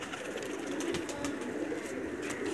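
Pigeons coo softly in a loft, with low murmuring calls over a steady background hiss and faint bird chirps scattered throughout.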